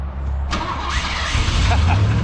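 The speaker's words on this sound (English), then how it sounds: "I have to readjust my ignition switch because I may have to do this with 2 hands to crank it, but hopefully it'll crank" A 1972 Ford Pinto with a 4-speed, long abandoned, cranks and catches, its engine rumbling loudly and steadily after a sharp starting transient, running at high revs.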